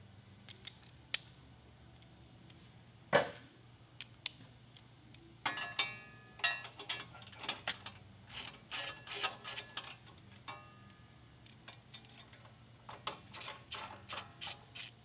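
Metal clicks and ratcheting from a wrench working a nut and bolt off an up-pipe support bracket under a car, a steady low hum beneath the scattered near, moderately loud clicks.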